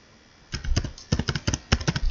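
Someone types JavaScript code in the VS Code editor on a computer keyboard, with short bursts of crisp, close key taps in quick uneven clusters after a brief quiet start.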